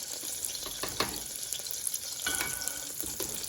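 A tablespoon of butter sizzles in a pan before blended beans go in. The frying hiss is steady and close, with a few clinks and stirring noises and no voices.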